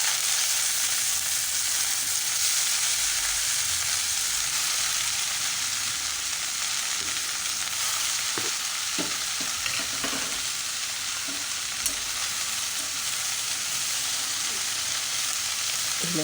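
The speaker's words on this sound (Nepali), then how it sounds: "अब म यसमा साग ओइदिन्छु। साग भुट्दैछु म यता।" Leafy greens stir-fry in a hot pan with chillies, giving a constant soft sizzle with scattered scraping and stirring knocks from about halfway through, fairly quiet and close.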